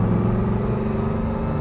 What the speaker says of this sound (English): Listen to it, man, it sounds good